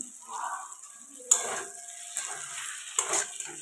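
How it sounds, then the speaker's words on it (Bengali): Mustard paste being stirred into a water lily (shapla) curry in a pan, with soft sizzling and a few sharp scrapes and clinks of a spoon against the pan, close and fairly quiet. "দিয়ে ভালো করে মিক্সড করে নিতে হবে"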